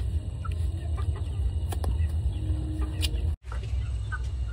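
Baby chickens in a country village in Sultan Kudarat give scattered faint cheeps over a steady outdoor hum, with a brief drop in sound near the end.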